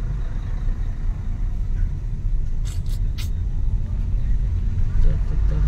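Steady low rumble of congested road traffic with cars and buses crawling past on a flood-hit road near a river in Binakayan, Kawit, continuous and fairly close, with a brief higher whine midway and faint talk under it.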